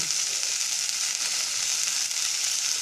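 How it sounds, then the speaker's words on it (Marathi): Mustard-seed tempering for a wild forest vegetable sizzles hot in a pan, a steady, even crackling hiss that runs unbroken and close with no voices. "तर अशा प्रकारे भाजी फोडणी टाकायची परतून घ्यायचे"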